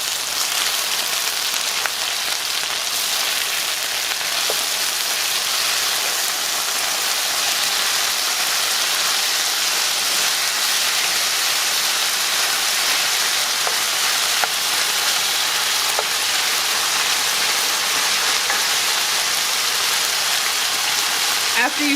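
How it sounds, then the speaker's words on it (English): Beef sears in a pan with a steady, loud sizzle that runs unbroken, with occasional faint clicks of stirring. "We want a really good sear for this beef, friends."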